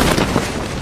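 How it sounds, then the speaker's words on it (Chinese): New parachute-opening effect in the video game Peacekeeper Elite: a short, full-bodied whoosh with a deep booming low end, heard alone and sustained at an even loudness. "这是现在落伞的声音。"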